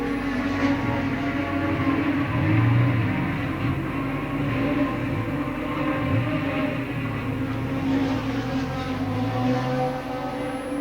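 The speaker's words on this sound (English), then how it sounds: "he's obviously got engine trouble. You can hear the Courage car is not happy." A 1969 Formula 1 car, the Courage entry in the British Grand Prix, drones steadily with a rough, unhappy engine note, a sustained loud mechanical roar with wavering pitch and no talk.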